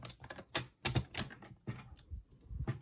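Scissors cut through a paper memory card in a string of crisp, separate snips and crunches, close by and uneven in rhythm, with brief pauses between cuts.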